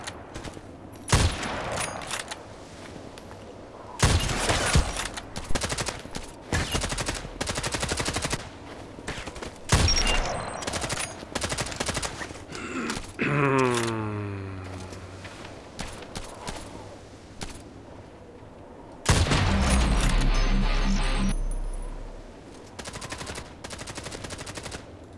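Gunfire in the online shooter Contract Wars: scattered single shots and rapid automatic bursts, loud and close, with pauses between volleys.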